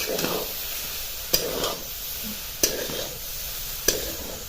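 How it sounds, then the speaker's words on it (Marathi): A spoon stirs soybean dry curry in a pan over a steady, soft sizzle, with four crisp scraping strokes against the pan at even intervals of roughly a second and a quarter. "पुन्हा एकदा हलवून द्यायचे पाहू शकता वाफ सुटली आहे आपल्या सोयाबीनला"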